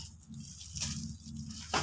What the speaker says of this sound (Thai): กดให้แน่น แล้วเทน้ำลงไปเลยค่ะ